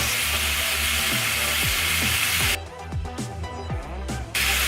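Onions frying in oil with boneless pork sirloin at a trailer cookout give a steady broadband sizzle, with rhythmic low thumps of stirring in the first half, and the hiss thinning slightly toward the end.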